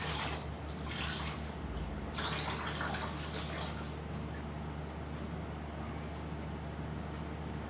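Running tap water rinses a face during a facial, a soft steady hiss of flowing water with faint splashes over the first few seconds, quiet and close without any talking.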